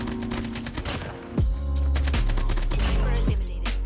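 Rapid AK-47 automatic fire in the mobile video game Call of Duty Mobile, a dense fusillade of close, loud shots in bursts, with heavy low booming impacts near the middle and end.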